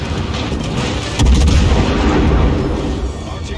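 Naval guns firing in World of Warships, a loud deep artillery boom rolling out heavily and sustaining a low rumble, with a faint radio voice beneath.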